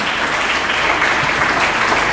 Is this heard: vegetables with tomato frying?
no